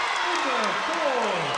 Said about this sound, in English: Now you can hear the crowd behind the Eagles once again